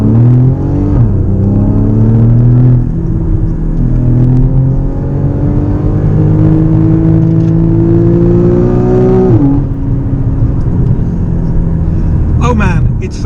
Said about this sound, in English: Oh man, it's so good to be in a car that makes some proper good noise.